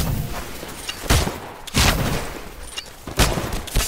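Live-ammunition training gunfire in the video game Titanfall: several sharp, loud weapon bursts fire at irregular intervals, each cracking out over a steady background of game noise.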